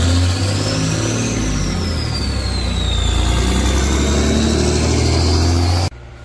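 A Cummins diesel engine fitted with a Dynovox 5-inch stainless steel exhaust revs up and holds with a deep, loud, droning rumble and a rising and falling whine, then cuts off abruptly near the end.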